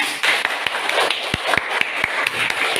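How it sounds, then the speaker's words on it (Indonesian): A school class claps hands in a loose, uneven patter of individual sharp claps close by, a few louder strokes standing out, with faint voices in the background. "Ya, tepuk tangan."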